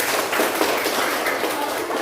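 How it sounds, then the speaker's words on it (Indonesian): Classroom applause during a teaching practice session, a steady dense wash of many hands clapping together for about two seconds at a fairly loud level, with no voices standing out. "Ya, tepuk tangan untuk Azri."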